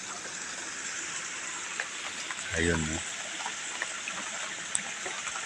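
Steady rain hisses down over a small garden plot with runoff water flowing through it, a constant wash of noise with a brief low rumble midway, while someone speaks a few words over it.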